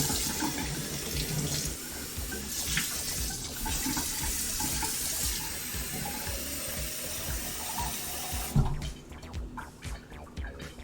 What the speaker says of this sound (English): so I'm going to add some water to that party.